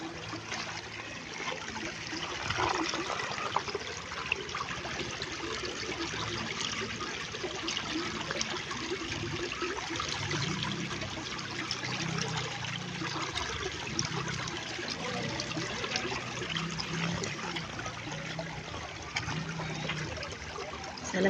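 Water trickling and dripping steadily beside a river, a soft continuous patter like light rain, close and fairly quiet with no talking.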